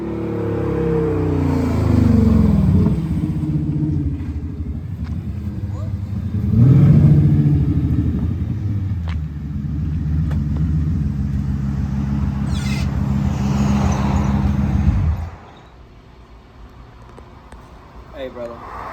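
A deep, rumbling 5.7 V8 engine in a Chrysler 300C with longtube headers idles and revs in loud surges, with someone talking over it, until the engine cuts out near the end.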